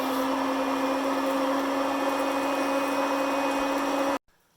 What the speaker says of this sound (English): even though the roaster's a little loud, the neighbors didn't notice